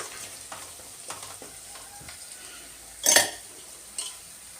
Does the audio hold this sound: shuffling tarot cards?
no